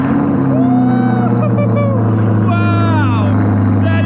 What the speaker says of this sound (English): let's get a cold start on this baby here.